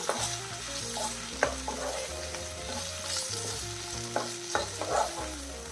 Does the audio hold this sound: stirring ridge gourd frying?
yes